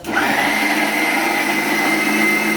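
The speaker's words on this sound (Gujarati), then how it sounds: "આદુમાં છે ને પાણી નાખીને ને એને મિક્સર રાખવાનો એટલે એક રસ જેવું થઈ જાય" A mixer grinder runs steadily, blending ginger with water into a paste, its loud continuous motor whine and churning holding at an even level throughout with no talk over it.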